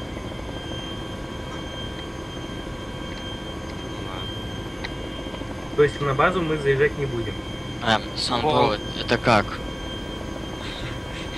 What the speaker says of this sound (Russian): Вертолёт в вышку.